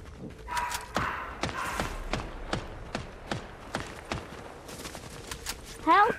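A steady series of sharp gunshots in Fortnite cracks out one after another, evenly spaced, with a brief shout at the end.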